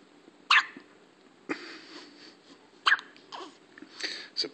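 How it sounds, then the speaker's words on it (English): A baby hiccups in short sharp bursts, three distinct hiccups spaced a couple of seconds apart, close and clear, with soft breathing between them and no talk. "What are we going to do about those hiccups?"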